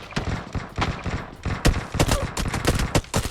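Repeated gunfire from a 25 versus 25 PUBG Mobile battle around a school map, with bursts of shots at close and middle distance in quick, uneven succession.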